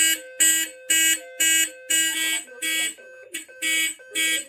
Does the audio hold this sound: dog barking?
no